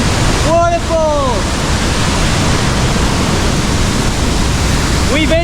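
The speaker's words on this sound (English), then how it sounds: "It's a beautiful twin waterfall." A twin waterfall at Gitgit in North Bali roars loud and close, a constant broadband rush of falling water, with a couple of brief rising tonal calls cutting through near the start and end.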